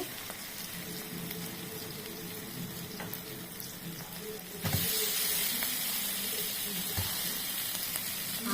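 Potatoes drop into hot oil in a pan for a meat curry. A steady sizzle jumps suddenly louder and brighter partway through, then holds a dense frying hiss to the end.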